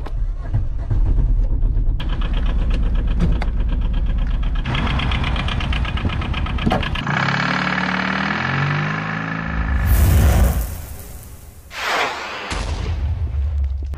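A small microcar engine in a new Aixam Minauto runs and idles with a rattling knock, then revs, shifts pitch and sputters with loud bursts near the microphone.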